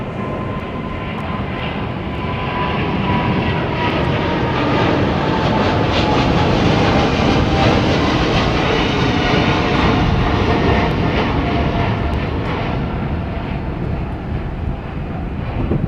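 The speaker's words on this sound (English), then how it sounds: "What a beautiful sound, man, those engines make." Jet engines of an airliner departing Heathrow roar loud and close, a sustained, rushing thunder that swells slightly mid-way and holds for the whole span without speech.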